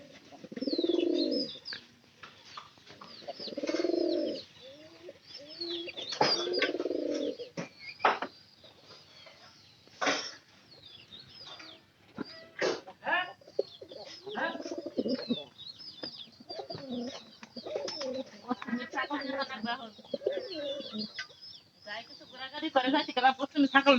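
A pigeon coos in repeated low, rounded calls near the start, followed by scattered clicks, rustles and brief bird sounds, with soft cooing and chirpy bursts returning later; fairly close and quiet overall.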